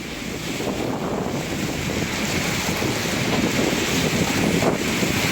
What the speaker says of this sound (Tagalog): ganyan kalakas ang bugso ng hangin at ulan na dala ng bagyong Opel